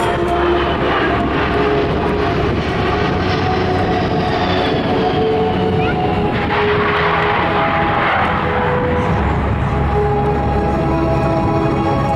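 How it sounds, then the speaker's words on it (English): A C-17 Globemaster III military transport jet passes low at an airshow open house in the pines, its broad, loud engine roar steady for the whole stretch with whining turbine tones sweeping as it goes by. "The C-17 is approaching from your right."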